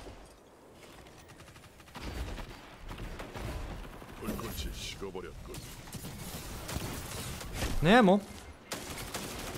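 Weapon fire in Destiny 2 from the Wasteland Wanderer M5 gun: rapid, steady bursts of shots with mechanical clatter, heard under someone speaking in Korean during video game play.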